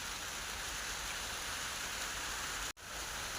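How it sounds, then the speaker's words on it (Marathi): Heavy monsoon rain pours down outside a flooded, muddy house, a dense, unbroken hiss of rain on surfaces that holds steady, with a brief dropout near the end. "बघा हे पाऊस आता कसला झालाय बघा"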